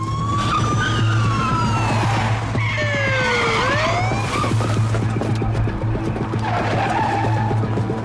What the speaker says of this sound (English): We're going to very quickly skid and pull them over.